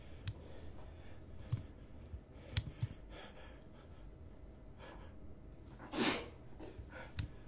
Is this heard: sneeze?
yes